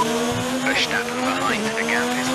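A race car engine in the video game F1 2019 whines and drops in pitch as it brakes, with tires squealing briefly, a steady game-like engine tone throughout.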